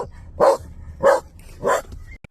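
A single dog gives three evenly spaced barks, moderately loud and close, with a faint high squeak at the very end and no talking.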